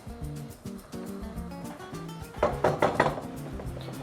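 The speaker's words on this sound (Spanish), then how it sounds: "con una cucharita de palo vamos revolviendo sin dejar que se nos queme" A wooden spoon stirs a garlic stew for chickpeas in a pot, giving soft knocks and a brief burst of scraping clatter partway through, over a tonal background.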